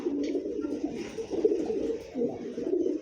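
Racing pigeons, a newly paired couple, coo repeatedly at close range, soft low throaty calls rolling one after another with brief pauses.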